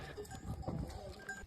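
Mountain goats and sheep at a mountain peak viewpoint, with shepherd dogs around: faint scattered bleats and light shuffling over quiet outdoor ambience, brief and distant.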